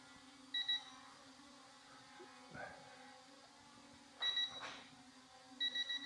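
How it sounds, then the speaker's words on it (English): Obstacle avoidance warning beeps from an RG600 Pro brushless optical flow drone, short high electronic beep bursts repeating several times over a faint steady motor hum, with a voice speaking between them. "Beep, beep, beep."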